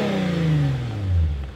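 A Mercedes-Benz C300 engine revs up close and loud, its deep roar sweeping downward as the revs fall away over a second and a half.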